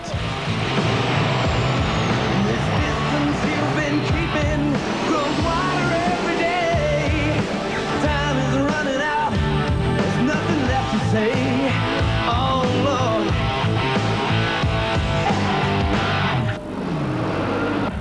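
Loud, sustained engine roar from a souped-up pulling tractor at a tractor pulling competition, continuous and dense for the whole stretch with a brief dip near the end.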